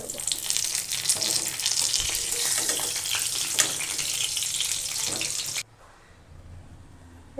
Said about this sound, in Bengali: পটলগুলোকে ঢাকা দিয়ে ভালো করে ভেজে নেব।